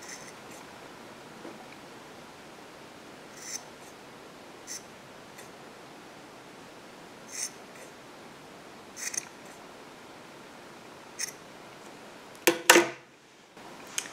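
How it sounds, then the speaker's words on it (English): Scissors trimming the end of kumihimo yarn to a point, several quiet isolated snips spread across a hushed room, with a sharper cluster of cuts near the end. "I'm just going to trim the end so that I have a triangle shape to the yarn."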